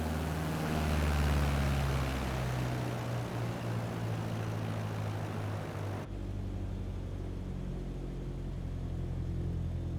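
Propeller aircraft engine in Microsoft Flight Simulator 2020 with the throttle cut to zero, as a steady low drone that drops abruptly to a quieter rumble partway through.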